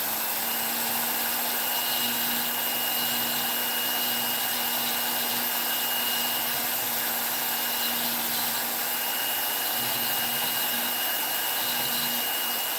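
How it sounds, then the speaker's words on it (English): Rotary tool fitted with a spine burr cleaning up carved brickwork edges on a wooden gnome house, a steady high-pitched whine held throughout at close range. "the spine burr, basically, I'm just taking it through here to clean up these edges"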